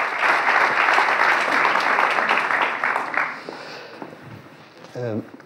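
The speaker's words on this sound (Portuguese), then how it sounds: "Sem mais demoras, uma salva de palmas," Audience applause welcoming Júlio Machado Vaz onto a talk event stage in Porto, dense clapping that swells then thins out and fades, followed by a brief voice.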